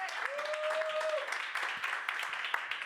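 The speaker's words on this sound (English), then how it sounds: "Let's get a big round of applause for Put a Cork in It Winery for letting us do this." Comedy show crowd applauding Put a Cork in It Winery, a steady patter of clapping with a brief tonal squeal early on and some voices mixed in.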